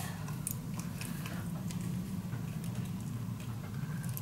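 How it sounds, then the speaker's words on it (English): Steady soft rain patters against a window, a dense hiss of small taps with occasional slightly sharper drops, continuous and fairly quiet. "I always like the sound of the noise on a window when it's raining."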